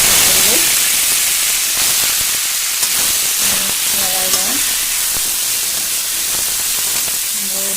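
Bitter gourd and potato frying in hot oil give off a loud, steady sizzle and hiss, with short tonal sounds surfacing now and then over the continuous frying noise.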